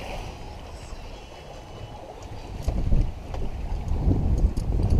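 Tartan 37 sailboat under sail in open water, with a steady rush of wind and water against the hull and gusts buffeting the microphone, no voices.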